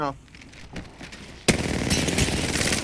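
Automatic weapon fire in Apex Legends bursts in as a sudden loud volley of rapid shots that rattles on continuously, following a stretch of quieter game sounds with a voice speaking.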